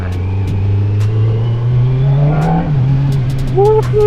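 A Kawasaki Z900 motorcycle engine revs loudly up close, rising and dropping in pitch with brief cuts between gears as it shifts quickly with a quick shifter.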